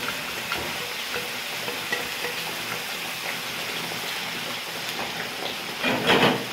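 Grated onion tipped into a pan of minced meat frying in oil, giving a steady close sizzle with stirring scrapes and a louder burst of crackling near the end.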